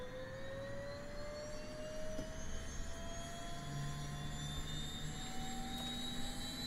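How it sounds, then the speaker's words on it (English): Turboprop engine start on a Black Square Turbine Duke in Microsoft Flight Simulator, a rising whine that climbs steadily in pitch over a low, continuous engine rumble, with no one talking. "Let's extinguish the master cautions, and we'll go ahead for"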